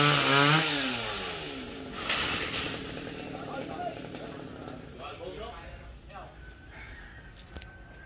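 A chainsaw cuts back a tree branch, its engine revving up and settling into a steady buzz close by, with the pitch shifting as the blade bites, under people talking.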